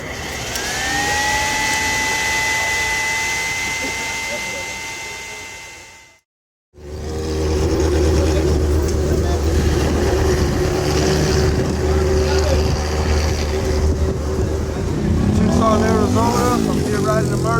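Loud, steady roar of the Murder Biz custom motorcycle engine running, a chopper-style mega ride from Los Angeles, with a brief cut-out near the middle before the heavy drone resumes up close.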